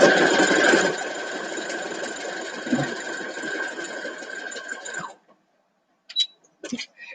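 A sewing machine stitches sashing on a nine-patch quilt top, running steadily and close for about five seconds before stopping, followed by a few brief handling clicks and rustles.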